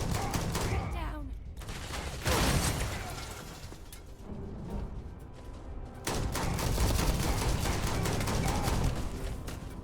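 Sustained gunfire in the video game Starfield, dense rapid shots rolling on with barely a break, loud and close, with one brief dip partway through before the firing picks up again.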